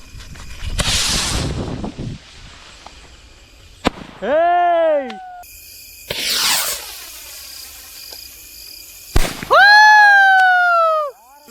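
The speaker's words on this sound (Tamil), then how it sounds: "பார்த்தீங்கன்னா சும்மா வேற லெவலில் போய் வெடிச்சுது." Homemade orange sky shot rocket fireworks launching with a rushing whoosh, then bursting with sharp cracks followed by long rising-and-falling whistles, two launches in succession, loud and close.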